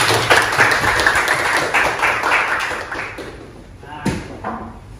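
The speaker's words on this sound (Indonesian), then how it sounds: "terima kasih tepuk tangan buat teman dulu" Classroom students applauding a classmate at a school lesson in Indonesia, a mixed, uneven patter of clapping with chatter under it, fading toward the end with a single thump near the close.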